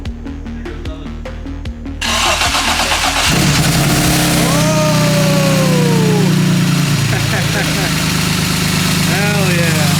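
A swapped engine in a BMW E30 cranks with a few rhythmic turns, then fires and catches into a loud, steady idle for its first start, with people talking and cheering over it.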